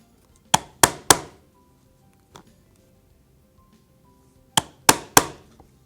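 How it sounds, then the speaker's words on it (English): A hammer strikes a thonging chisel through a leather knife sheath in two sharp bursts of three close, loud knocks, with a lone faint tap between them and quiet pauses around them. "you could just take a single thonging chisel"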